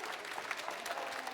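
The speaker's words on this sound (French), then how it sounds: "on applaudit Sylvie" Scattered clapping from a small audience at a senior bowling final, a soft patter of hands that stays fairly quiet and even for a moment.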